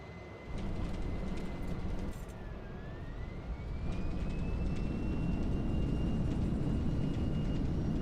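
Boeing 737-300 in the X-Plane 11 flight simulator, a steady broadband engine and airflow roar with a tonal whine that dips and rises, continuous and fairly loud after landing.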